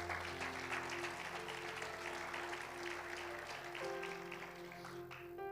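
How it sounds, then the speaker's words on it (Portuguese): Applause from a church congregation, fairly faint and continuous, blended with sustained organ or keyboard chords that keep playing beneath the clapping. "Você pode dar um aplauso bem forte ao Senhor?"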